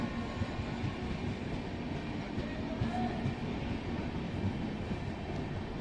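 The Shipra Express train sits at a station, giving off a dense, steady rumble and low mechanical hum with a faint squeal partway through, moderately quiet and continuous.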